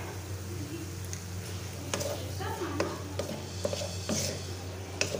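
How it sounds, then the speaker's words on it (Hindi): Chicken being stirred in a pan with black pepper, soy sauce and red chili flakes, giving soft scraping and occasional clinks over a steady low sizzle and background hum. "अब इसको थोड़ा मिक्स करेंगे।"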